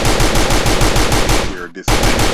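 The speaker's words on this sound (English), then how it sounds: "As they shoot these boxes, the gunshots" Rapid automatic gunfire rattles in a fast steady stream, cuts out briefly, then resumes, loud and close.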